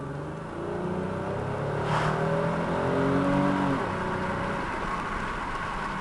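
A 2003 Chevrolet Monte Carlo accelerates hard, engine revs rising through gears with a brief dip at a smooth shift, then settling into steady road drone; heard from inside, moderately loud, no speech.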